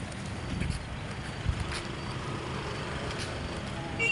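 Strong monsoon wind blowing beside the sea, a steady broadband rumble buffeting the microphone without letup, with a brief stronger gust partway through.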